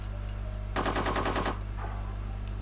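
Gunfire in the video game UFO, one rapid automatic burst of about eight quick shots, faint over a steady background hum, with a few soft game tones before it.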